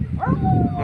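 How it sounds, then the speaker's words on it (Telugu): A single short dog vocalization, a drawn-out yelping bark or brief howl, close and fairly loud. "కుక్క అరుస్తుంది"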